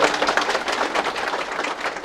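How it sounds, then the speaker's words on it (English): An audience applauds panelists at the close of a final conference session on ship recycling, steady rapid clapping from a modest crowd lasting about two seconds, even in level with no voices over it. "If you'd like to give them a round of applause"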